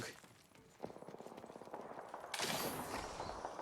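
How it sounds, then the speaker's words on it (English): Automatic gunfire in the video game Apex Legends, a rapid run of close, sharp shots that then swells into a louder, denser burst of fire. "Wherever that gunfire is coming from, it's very close, and I can't see it."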